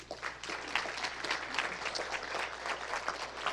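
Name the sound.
applause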